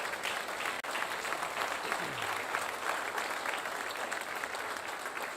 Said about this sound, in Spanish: suelte fuerte el aplauso.